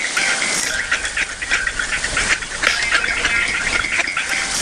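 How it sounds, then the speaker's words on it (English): Mallard ducks quack steadily at a duck pond in February, a dense, continuous chorus of calls heard fairly close with no talk over it. "Sit up over here by the little duck pond, feed the ducks. It's like they're all mallards for an oddball."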